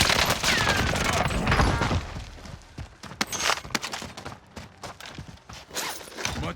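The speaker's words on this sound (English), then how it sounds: "so they're shooting down into the field" Gunfire in the Call of Duty Warzone video game, a dense fusillade of shots over the first half, then scattered sharp bursts and pops continuing amid game noise.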